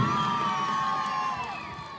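An audience cheers and shouts for a folk-dohori singer at a school golden jubilee celebration, a dense crowd roar with whoops and a sustained high tone over it, tapering slightly at the end.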